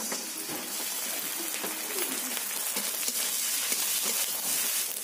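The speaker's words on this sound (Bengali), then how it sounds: "রসুন পেঁয়াজ ভালো করে ভাজা হয়ে গেছে, এতে দিয়ে দেব চা চামচের 1 চামচ আদা বাটা" Garlic and onion sizzle steadily in hot oil in a pan, with ginger paste being added, a continuous close crackling fry with occasional stirring scrapes.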